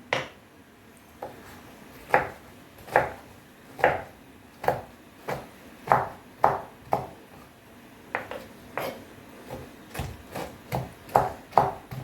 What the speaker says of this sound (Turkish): doğrayacağım.